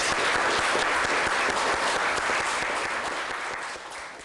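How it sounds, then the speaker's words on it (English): A room full of people gives a round of applause at a community justice center gathering, steady and full throughout before tapering slightly at the end. "And I'd like to give you a round of applause."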